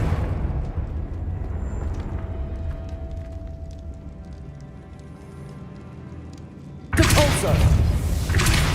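A Confringo blasting spell goes off in Hogwarts Legacy, a sudden loud explosive burst near the end following a stretch of low rumbling game ambience and scattered thuds.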